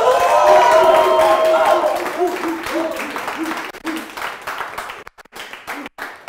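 Audience claps and cheers for a contest winner at a quiz show event, a loud burst that thins into scattered clapping, with a voice speaking over it partway through.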